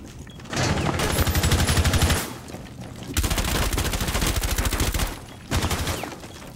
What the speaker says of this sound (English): They're shooting at your unreinforced mirror